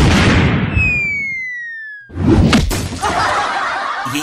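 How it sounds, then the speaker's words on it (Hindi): In a Diwali comedy skit, a shattering, explosion-like sound effect rings out with a falling whistle tone, breaks off into brief silence, then bursts again into loud crashing debris. "ये कैसा धमाका हुआ भाई ताऊ की लुंगी में?"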